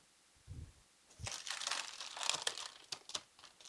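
Baking paper peels back from a freshly baked sponge for a Yule log cake: a short low thump, then a run of crisp crinkling and tearing paper sounds, close and alone.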